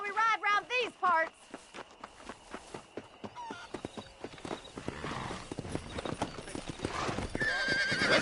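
A horse whinnies loudly in Red Dead Redemption, then hooves clip-clop in a quickening rhythm that builds into a dense gallop by the end, with riders moving close by.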